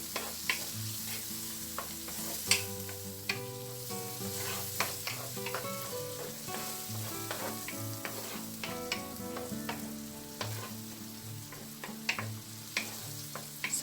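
Whole kernel corn fries in butter for chicken à la king, a dense steady sizzle broken by frequent close spatula scrapes and stirring knocks as the pan is worked, with no voices.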